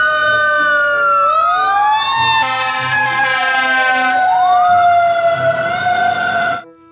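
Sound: toy fire truck siren

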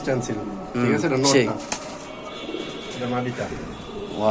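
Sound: pigeons cooing

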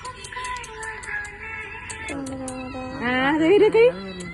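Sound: cat meowing

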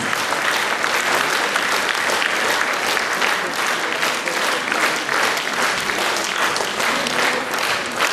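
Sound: audience applause at a concert evening

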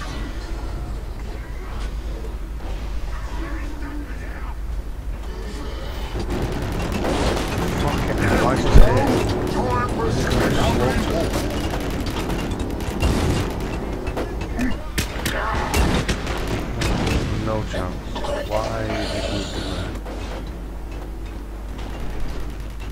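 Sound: gunfire in the video game Warhammer 40000: Eternal Crusade

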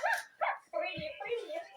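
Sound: dog barking, a dog given as a gift

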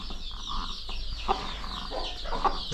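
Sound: brooding hens clucking

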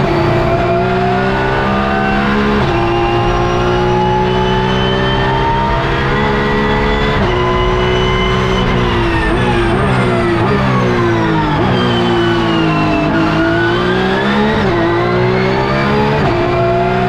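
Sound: Porsche Cup race cars racing at Zolder circuit

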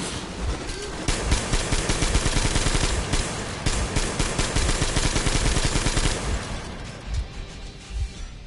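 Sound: gunfire in video game Metro Exodus

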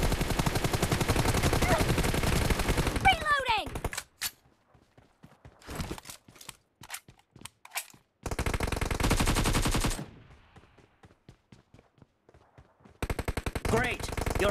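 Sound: gunfire in BGMI video game team deathmatch

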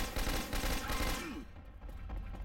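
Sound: gunfire in video game Left 4 Dead 2

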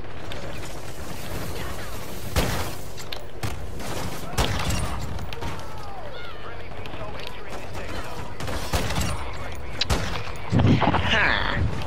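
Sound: gunshots in Call of Duty Modern Warfare 2 (video game)

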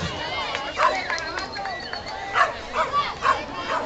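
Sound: dog barking at a festival

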